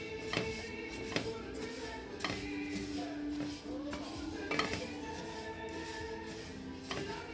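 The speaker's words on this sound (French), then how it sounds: "il faudra remuer, remuer, remuer. Parce que là, les graines de sésame, c'est petit." Sesame seeds toasting in a pan for sfouf (sellou) while a utensil stirs them, giving repeated clinks and scrapes against the metal at a steady rhythm over a constant low background, with no talking.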